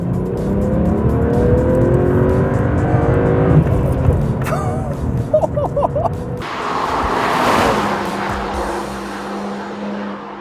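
A BMW 1 Series M car engine and exhaust rev and roar loudly, rising and falling through several pulls with a throaty, close-up sound and no talking.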